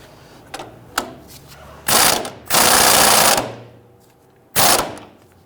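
An impact wrench tightens a sway bar link nut on a 2000–2006 Toyota Tundra, firing in several rapid rattling bursts of a second or so each, separated by short quiet gaps and a few light clicks.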